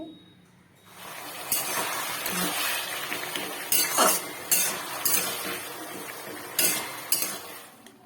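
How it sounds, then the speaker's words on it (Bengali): A utensil stirs boiled taro leaves in hot oil in a wok, giving scraping clinks and rustling bursts that repeat at an uneven pace, close and fairly loud. "দুধ কচু শাক এবার ভালো করে নেড়ে চেড়ে নিচ্ছি"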